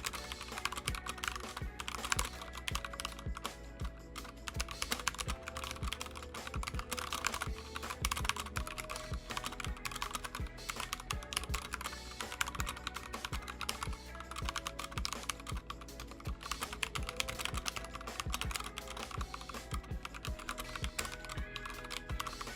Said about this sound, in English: see how the Clix keyboard sounds with the Gatoron Speed Silver switches